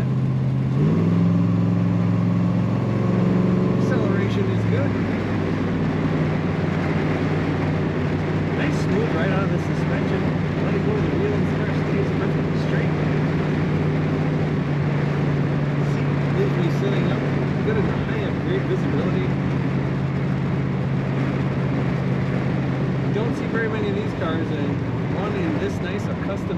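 1955 Dodge Coronet two-door sedan with a custom exhaust, a steady mid-pitched drone while cruising, fairly loud and continuous after a brief rise in revs at the start.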